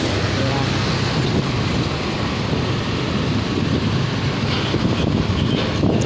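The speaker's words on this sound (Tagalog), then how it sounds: "so may eroplano sa taas." Aircraft engine drone from an airplane passing overhead during a road trip, a steady broadband roar running through the whole stretch alongside nearby road noise.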